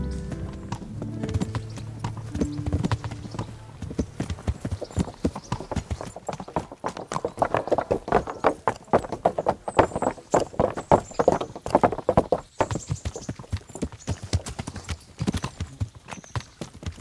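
Horse hooves clip-clop steadily and fairly close as a rider travels in the video game Kingdom Come: Deliverance, with low tonal sounds under the opening seconds and then a dense run of hoof strikes.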